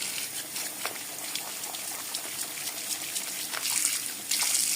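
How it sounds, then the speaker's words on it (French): Water runs and splashes steadily in a hand-wash basin as stain remover is rinsed out, a soft continuous trickle with brief splashes, growing slightly louder near the end, with no voices. "Tu vois, tu vides tout. Tu rinces. Voilà, tu rinces tout."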